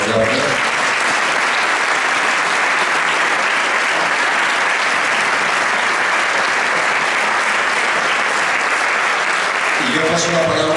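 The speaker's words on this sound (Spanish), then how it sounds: "Terminamos con un fuerte aplauso también" Strong, sustained applause from the audience at a book presentation for a former president of Castilla-La Mancha, a dense, even wash of clapping that holds for about ten seconds before a voice returns.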